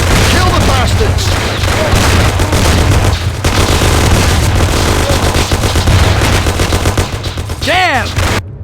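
Gunfire in the video game Mafia: The City of Lost Heaven, with rapid, loud bursts of shots and booms crowding together in a dense firefight, while voices shout over the shooting.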